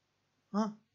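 A Minecraft sheep gives one short, nasal bleat in a survival farming game, close and clear, with no talk over it.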